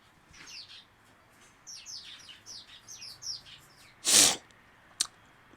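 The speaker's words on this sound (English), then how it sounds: "I wonder can you guys see the birds?" Small birds chirping outdoors in the chilly air, repeated short tweets from close by, followed by a loud sniff and a click.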